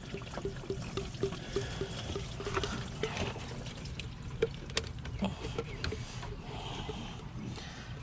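Coolant gurgling and trickling as it drains from a hole in a 2015 Town and Country with a 3.6L engine during thermostat work, a steady low pour with scattered bubbling pops, close and moderately loud.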